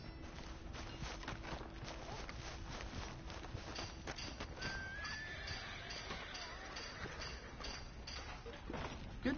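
A horse in Red Dead Redemption 2 neighs and its hooves clop amid a busy, steady game soundscape with mechanical clicks, the whinny rising briefly in the middle.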